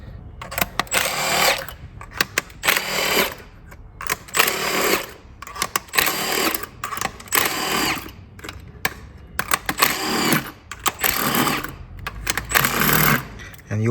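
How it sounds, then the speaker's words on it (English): A Milwaukee impact gun with a 10mm socket zips out injector studs on a Mazda Skyactiv 2.2 diesel engine, in a series of short, loud, rattling bursts separated by brief pauses, with some background noise between them. "And you also need a Milwaukee gun."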